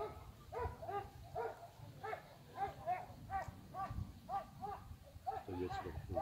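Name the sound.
dogs barking outdoors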